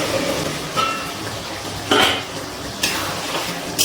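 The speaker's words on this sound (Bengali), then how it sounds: "5 মিনিট পর ঢাকনাটা তুলে নিচ্ছি" A lid comes off a pot of potato and green pea curry on a medium flame, with a few sharp metallic clanks and clinks over a low simmering background.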